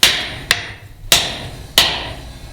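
A hammer strikes the head of a clipping hammer being made, four sharp metallic taps spaced about half a second apart, close and loud, each with a short ringing decay and no talking.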